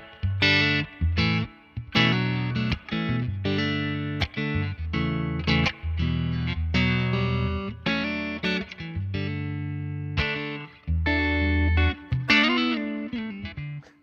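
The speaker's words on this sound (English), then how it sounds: "I'm going to turn off the digital reverb so you can hear the reverb from the amps" A distorted electric guitar plays chords and riffs through the Neural DSP Morgan Amp Suite plugin, the notes ringing out with the amp's own reverb between strokes.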